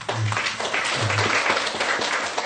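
A temple congregation at a Buddhist dharma talk claps together, a brief burst of dense applause that holds steady, with a low hum underneath near the start.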